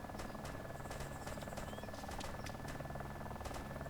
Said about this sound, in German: Okay, da ist der Heli.